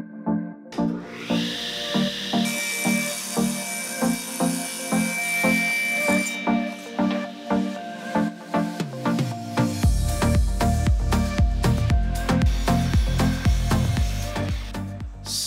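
A CNC machine routes logo lettering into a sheet of plywood, giving a steady, loud cutting drone with rhythmic pulsing passes and shifting pitch as the bit moves, joined by a deeper, heavier rumble partway through.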